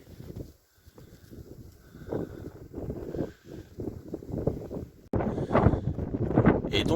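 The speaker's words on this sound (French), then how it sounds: "mais il y a un vent de malade qui nous frigorifie" Strong, cold wind in snowy Alaskan country buffets the microphone in heavy, uneven gusts that rumble and roar, growing louder and rougher toward the end, with no clear talk over it.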